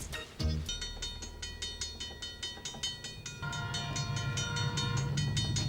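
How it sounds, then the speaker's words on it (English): A freight train passing at 5 a.m. gives a steady, loud rumble with sustained tonal wheel and horn-like tones throughout, and the sound grows fuller partway through. "There's a train again."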